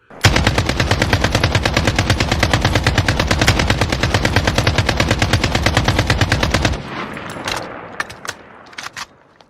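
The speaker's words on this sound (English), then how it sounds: "without warning, gunfire erupted from both sides of the road" Sustained rapid automatic gunfire rattles loudly for several seconds, then breaks into scattered individual shots and fading cracks.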